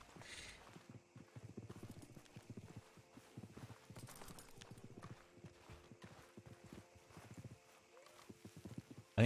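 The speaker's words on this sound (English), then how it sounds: "I think that's just the glitched horse that I'm hearing." Rhythmic clip-clop of a horse's hooves in a Western-style video game, a steady stream of moderately loud hoofbeats continuing throughout with some background game sounds.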